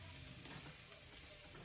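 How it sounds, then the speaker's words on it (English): Quiet, steady sizzling of rice and chickpeas frying in a pot, with faint stirring scrapes and no voices. "Keep turning it so the chickpeas could get to soak while it's frying."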